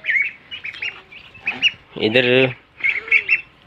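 Black and red hens squawk and cluck in a farmyard coop, with a loud burst of harsh calls in the middle and shorter squawks around it, while someone speaks briefly nearby.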